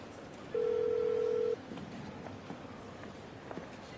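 In an office, a single electronic telephone ring tone sounds for about a second, clear and steady above a quiet room murmur with faint movement afterward.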